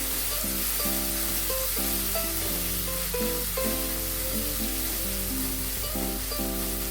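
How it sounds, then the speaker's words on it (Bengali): Prawns fry in ghee in a pan, a steady soft sizzling hiss running throughout at an even level, laid under a constant background music track. "ঘি দেওয়ার পর আমি এটাকে একটু লাল করে ভেজে নেব"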